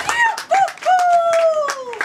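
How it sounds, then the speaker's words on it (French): An audience at a Congolese civil wedding ceremony claps for the couple in quick, uneven bursts, with sustained sung or called-out voices riding over the clapping. "Applaudissez pour ce couple."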